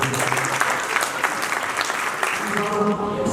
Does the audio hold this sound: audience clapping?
yes